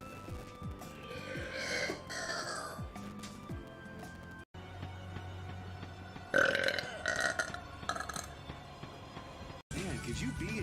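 A Vtuber lets out a loud belch amid other voice sounds and a busy background of game or music noise, with a couple of brief dropouts breaking the stream.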